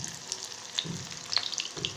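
Marinated soya chunks (meal maker) dropped into medium-hot oil and deep-frying, a close crackling sizzle with small popping bursts and light stirring, no voices.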